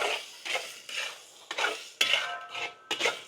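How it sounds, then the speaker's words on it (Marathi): Egg biryani gravy with kasuri methi and chopped mint is stirred in a pan, a metal spoon scraping and clanking against the pan in repeated strokes, each about half a second apart, with faint sizzling underneath. "आपण आता ग्रेव्ही अशीच परतून घेऊ, जोपर्यंत व्यवस्थित त्याला तेल सुटत नाही ग्रेव्हीला।"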